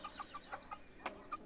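A hen clucking in a backyard coop, a quick run of short, soft clucks in irregular rhythm, fairly close but quiet.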